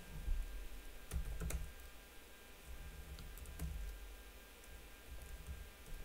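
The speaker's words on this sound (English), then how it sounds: "I'm typing some stuff up here." Someone types on a computer keyboard in scattered bursts of soft, close clicks and taps over a steady room hiss, with no talking.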